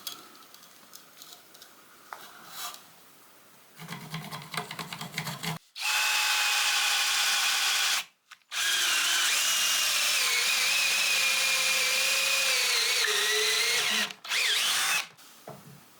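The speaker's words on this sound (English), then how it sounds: "let's mark the spot where the pin goes in and then drill the stone" Power drill boring into stone for a fireplace beam pin, quiet handling noises first, then long, loud, whining drilling runs broken by short pauses, with a final brief burst.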